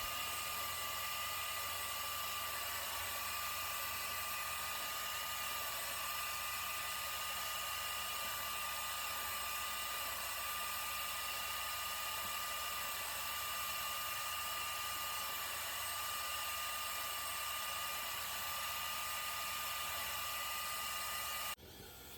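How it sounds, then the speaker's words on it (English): A Ridgid 4-gallon, 5 horsepower wet dry vacuum whines with a steady, unbroken high-pitched drone while cleaning a badly soiled cloth Mack truck seat, cutting off just at the end. "I have the Ridgid wet dry vacuum. It's a 4-gallon, 5 horsepower."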